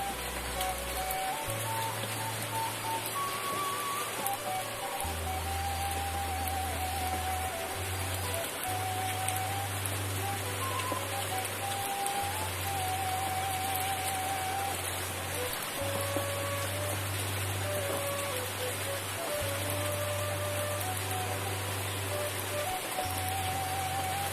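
Steady rain pouring down in a continuous hiss, with soft low tones droning underneath and no voices.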